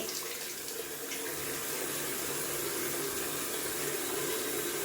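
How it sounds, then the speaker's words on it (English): Cold water runs and splashes close up at a bathroom sink during wet shaving, a steady hissing, trickling wash of water lasting throughout at moderate level with no talking. "Then I take cold water in the palm of my hand and add that to my face, splash it over."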